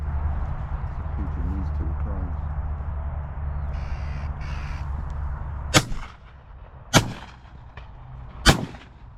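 Three sharp, loud gunshots crack out in the UK countryside while shooting crows and pigeons, spaced a second or more apart after a stretch of low wind rumble, crow calling and faint distant sounds.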